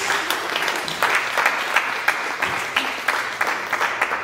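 An audience at a church sermon claps steadily and loudly throughout, a dense wash of applause with recurring sharper bursts and no talking.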